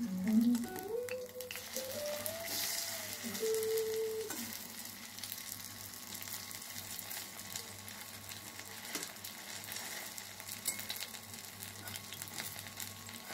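Helencha leaf fritters frying in oil, a steady soft sizzle with a brief low rising whine early on, otherwise continuous and moderately near, no talk.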